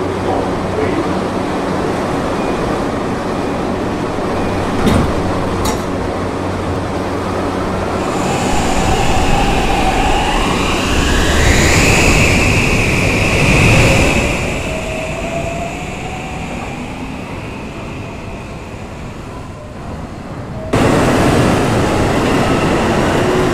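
An R160C subway train rides an E-train route toward 78th Street Waterside Boulevard, with a steady loud rumble of wheels and motors, rising whines as it moves, and a faint automated announcement voice partway through.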